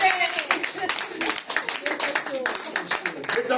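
Worshippers in a church clap together in praise, a fast run of overlapping handclaps with some vocal cheering, fairly loud and close, swelling and dipping across a few seconds.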